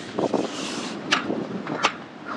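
Strong gusting wind buffets a truck camper parked out in the Badlands, a broad close rushing roar with a couple of brief sharper bursts.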